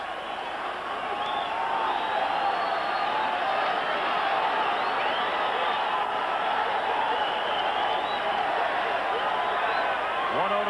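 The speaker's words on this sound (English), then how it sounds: "Crowd responding in good measure to the message board, which posts louder, louder, louder in bigger and bigger and bigger letters." A baseball stadium crowd roars steadily and loudly for the whole stretch, a dense wall of cheering and whooping that swells as fans respond to urging from the message board, at a Minnesota Twins at New York Yankees game in 1987.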